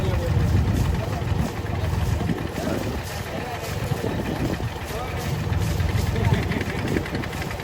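Idling boat engine at a jetty in Jaffna, Northern Province, steady low rumble running throughout with a continuous broadband wash, fairly loud and near, voices mixed faintly underneath.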